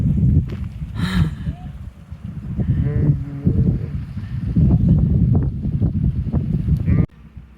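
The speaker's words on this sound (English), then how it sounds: "So the sheep are just going in and out of the old building." Several sheep bleating in and out of an old abandoned building at Camp Hale near Leadville, Colorado, with repeated close calls over wind buffeting the microphone and brief talking.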